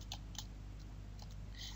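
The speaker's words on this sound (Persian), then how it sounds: "کلید انتر از صفحه کلید رو میفشاریم" A few faint, scattered key clicks of light typing, soft and close, over a steady low background hum.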